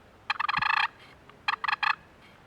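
A wooden turkey box call imitates the soft rolling purr of a content turkey, two short raspy bursts of rapid fluttering notes, close and clear.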